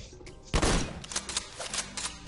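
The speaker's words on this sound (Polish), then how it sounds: "No, dwa strzały ma strzelba." Two sharp shotgun blasts in the game Worms Revolution, the first loud and booming, followed by quieter clattering impacts and mechanical clicks.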